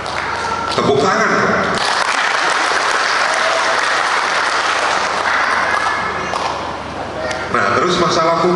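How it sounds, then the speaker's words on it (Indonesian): Steady audience applause fills a hall at a farmers' forum on food sovereignty, a dense wash of many hands clapping for several seconds, briefly thinning and then swelling again near the end. "Tepuk tangan."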